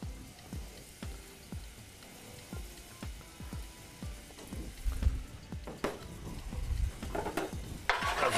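A spoon or whisk stirs a flour roux in a hot pan with a steady rhythmic scraping about twice a second, soft sizzling underneath, growing busier and louder in the final seconds.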